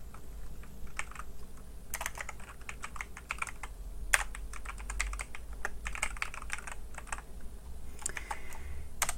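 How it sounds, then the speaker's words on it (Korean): Typing on a computer keyboard, with quick irregular clusters of crisp key clicks and short pauses between bursts, close and fairly quiet over a faint low hum. "우선 내용을 정리를 좀 타이핑을 좀 쳐서 말씀드릴게요"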